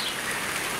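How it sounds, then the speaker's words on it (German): Rain falls steadily as a broad, even hiss with no breaks, heard alone and fairly loud, with no voices or other sounds. "in diesem Sinne, Regen, Regen, Regen."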